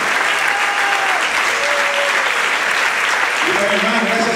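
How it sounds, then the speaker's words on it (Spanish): An audience at a symphony orchestra concert gives sustained, dense applause that fills the whole stretch, loud and even, while someone speaks over it near the end. "El aplauso para ellos también, cada uno de los profesores de la asignación."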